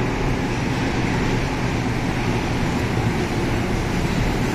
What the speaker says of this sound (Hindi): गाड़ी आ रही जा रही है।